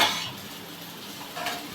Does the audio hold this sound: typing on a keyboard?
no